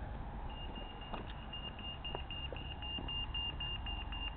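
A pedestrian crossing signal at traffic lights near Bangor train station beeps in a fast, steady, evenly spaced series over a low hum of street traffic.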